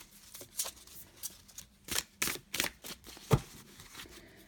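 A new oracle card deck being shuffled by hand, a run of crisp riffling bursts and soft card flicks, close and fairly quiet, irregular in rhythm.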